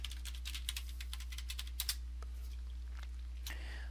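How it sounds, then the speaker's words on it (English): Username and password are typed on a computer keyboard during a web hosting login: quick light key clicks in irregular bursts, close and clear over a steady low hum. "Then type in your username up here and then your password."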